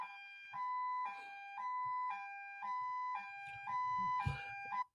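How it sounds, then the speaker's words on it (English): A two-tone siren alternates steadily between high and low pitches, fairly loud, with a brief burst of noise near the end. "When I play that police siren"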